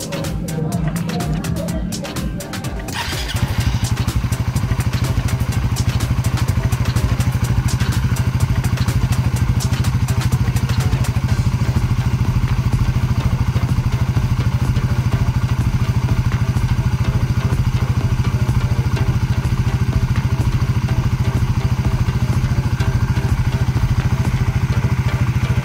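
A Suzuki Raider 150 Fi motorcycle engine starts up after a brief clatter and then runs steadily at a loud, rumbling idle for the rest of the clip.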